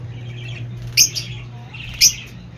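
Parrots and their chicks in a cage give two sharp, high chirping squawks about a second apart over a low steady hum, fairly close.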